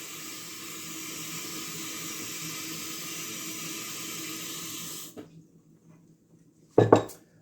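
Cold water runs steadily into a jug holding powdered milk for a homemade white pasta sauce. The flow stops abruptly, followed by a few soft knocks and a short, sharp clatter of kitchenware.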